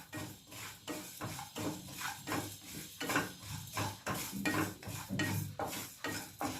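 Fennel and cumin seeds dry roasting in a hot pan with no oil, stirred steadily so a rhythmic scraping and rattling repeats about twice a second, close and alone.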